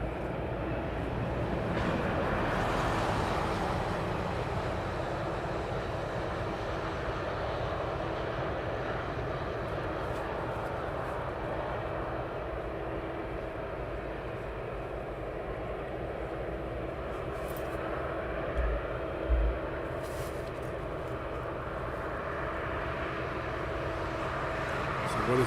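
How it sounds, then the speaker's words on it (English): An aircraft auxiliary power unit runs at East Midlands Airport, a steady, fairly distant whine and rumble that drones on continuously, with a voice talking over it and a few brief clicks. "Here the APU's running."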